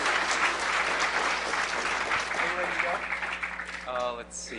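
Audience applause at a hacker conference talk, steady clapping from a crowd that holds for a few seconds before fading, with a voice speaking over the end.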